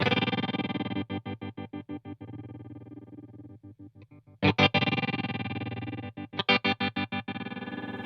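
An electric guitar played through a TC Electronic Pipeline tremolo pedal in square-wave mode with depth turned up, the sound cutting sharply on and off in a fast, steady pulse.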